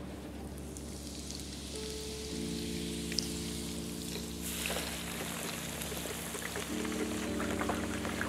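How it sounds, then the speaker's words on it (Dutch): Sliced leek dropped into a deep fryer at 175 degrees, with a faint hiss and sizzle building as it hits the oil and crackling continuing under a steady low hum. "En daar ga ik even de prei krokant in bakken."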